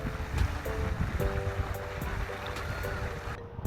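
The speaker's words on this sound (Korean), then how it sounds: "개울 물소리를 들어요." A stream rushes steadily in a broad, continuous wash, with faint tonal hums and occasional light ticks layered over it.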